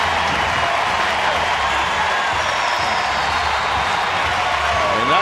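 Ballpark crowd roaring after a home run to center field at a San Diego at San Francisco baseball game, a dense, loud, sustained cheer that fills the whole stretch without letting up.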